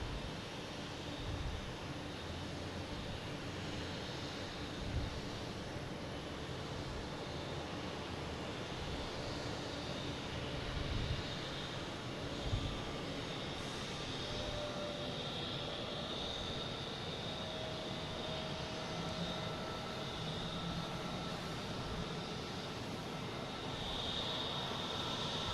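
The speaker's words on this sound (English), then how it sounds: "Next coming in is a JetBlue from Las Vegas, an A321neo" A JetBlue Airbus A321neo arriving at Boston Logan: a steady, moderately distant jet roar that holds broadband and even across the whole stretch with only slight swells, no voices over it.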